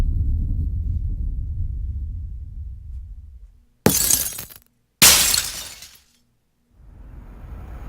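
Two sharp bursts of shattering glass in the video game Payday 2, loud and close, each trailing off into scattered tinkling, set against a low rumbling background that fades out between and after them.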